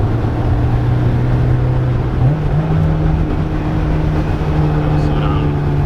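A Honda S2000 fitted with a Ballade Sports titanium exhaust drones loudly from inside the cabin, the pitch climbing partway through as it pulls in gear, while people talk quietly over it.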